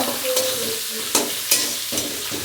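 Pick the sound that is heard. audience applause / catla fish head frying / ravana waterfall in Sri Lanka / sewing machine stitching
catla fish head frying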